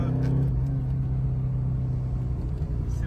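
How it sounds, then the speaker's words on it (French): An Alpine A110 with carburettors drones on the move, a loud, continuous low engine rumble heard from inside the car, with a slight shift in tone as gears change. "On entend bien les carbus."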